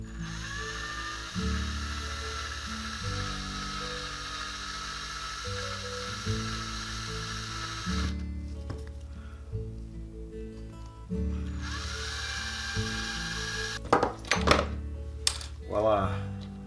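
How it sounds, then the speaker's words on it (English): A small drill whines as it bores out the rivets of a Matchbox diecast VW Bug dragster, a sustained close hum that starts and stops in bursts, with metallic clinks near the end. "So I'm just going to drill these out and then I will putty this in"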